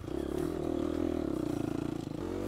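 A Gas Gas EX250F dirt bike engine revs steadily during a harescramble race, a close, continuous buzzing drone with rapid pulsing throttle and a slight drop near the end.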